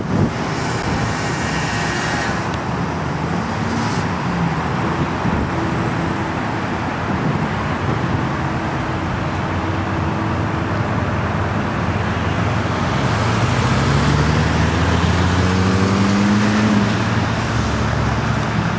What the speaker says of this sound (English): Traffic backed up. It's a pretty popular spot.